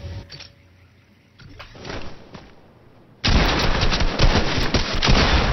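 Rapid gunfire from the Fortnite video game bursts in loudly and continuously after a few seconds of quieter ambient sounds, a dense string of closely spaced shots.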